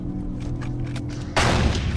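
Gunfire in the video game Condemned: Criminal Origins: a sudden loud burst of shots erupts after a quieter stretch of ambient game noise.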